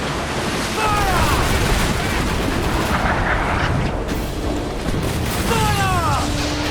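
Ship cannons fire in a naval battle in Assassin's Creed Black Flag, with repeated booming blasts over a constant roar of battle and wind, and crew voices shouting in between.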